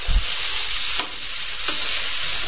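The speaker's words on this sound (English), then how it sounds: "what I'm going to do is stir a little bit here, just so that nothing gets burnt" A sweet and spicy sauce sizzles steadily in a pan with a constant frying hiss, while two soft scraping stirs pass through it about a second apart.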